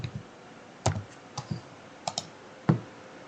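Light typing on a computer keyboard while entering text in Revit, a handful of soft, sparse key clicks with gaps between them against a quiet room.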